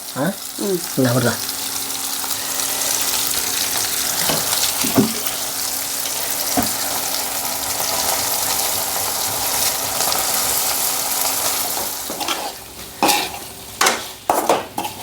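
Chicken fries and is stirred in a pan for chicken curry, a continuous sizzle broken by scraping spoon strokes and clatter, with a brief voice heard in the background.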